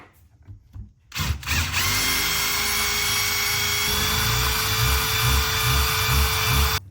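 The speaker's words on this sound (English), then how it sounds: "Okay, we're gonna try and drill out those holes a little bit." A power drill whines steadily and loudly as it bores out holes in exhaust parts for a Honda K-swap race car, starting after a few faint handling noises and running continuously to the end.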